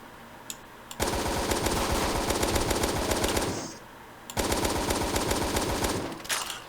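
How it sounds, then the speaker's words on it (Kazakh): Rapid automatic AK-47 fire aimed at zombies in a video game, two long sustained bursts of loud, evenly spaced shots separated by a brief pause. "АК-47-ді атып көрейік достар."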